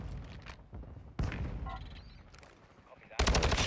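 Gunfire from Modern Warfare 2, including a Paul Pogba bundle weapon, comes as sharp bursts of shots spaced between quieter stretches, with a loud volley at the end and talk in between.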